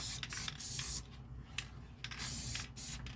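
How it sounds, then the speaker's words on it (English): Clear sealer sprayed from an aerosol can onto a DIY bracelet holder, with four close, loud hissing bursts of about half a second each, separated by short quiet gaps. "when this dries, I'm going to put a sealer on top of it"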